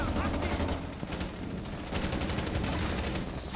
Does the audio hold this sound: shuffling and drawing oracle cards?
no